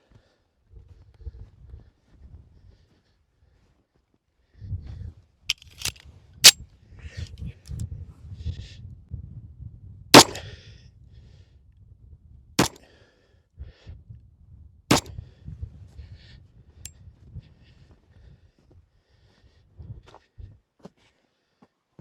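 Several sharp gunshots from a Colt 1911 pistol fired at 7 yards, spaced irregularly across the clip, loud and close, over a low rumbling background.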